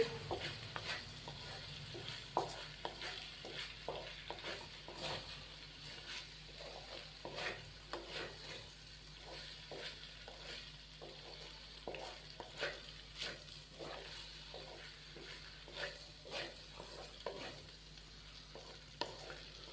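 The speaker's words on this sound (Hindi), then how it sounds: "और अभी हम इसको मीडियम से लो फ्लेम पे 1 से 2 मिनट और फ्राई करेंगे" Vegetable macaroni with soy sauce and white pepper sizzles in a pan while a spoon stirs it, rhythmic scraping strokes over a steady low fry, close and unaccompanied by speech.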